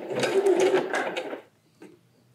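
Home sewing machine stitching a zigzag seam on a bralette, a quick mechanical whirring burst of rapid needle strokes lasting just over a second, then stopping, followed by a faint click.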